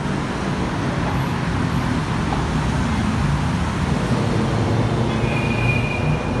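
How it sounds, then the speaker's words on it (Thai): An electric BTS Skytrain on the elevated line near Phra Khanong station on Sukhumvit Road in Bangkok rumbles past steadily and close, with a thin wheel squeal late on, over constant road traffic. "ขึ้นรถรางไฟฟ้า BTS เนาะ"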